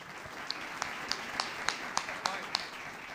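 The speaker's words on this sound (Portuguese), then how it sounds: "uma salva de palmas ao Rei Jesus" A church congregation applauds during a worship service, a steady wash of many hands with sharper individual claps standing out at regular beats above it, fairly close and moderately loud.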